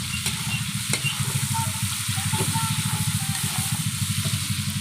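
Bagoong frying and being stirred in a pan that is shaken back and forth, a loud, close sizzle pulsing in quick, regular scraping strokes with occasional sharp clicks, no voices.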